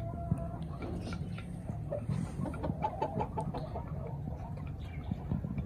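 Chickens and a rooster kept as home-bred birds cluck softly and continuously near the listener, with scattered short calls over a steady farmyard background.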